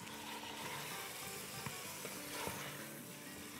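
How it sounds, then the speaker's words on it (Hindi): About a kilo of mutton sizzles and fries in a pot for a Kashmiri korma, a steady, fairly quiet crackle with occasional soft pops and stirring. "तो बस हम इसको इतना ही फ्राई करेंगे जब तक कि इसका ज़रा सा कलर चेंज ना हो जाए"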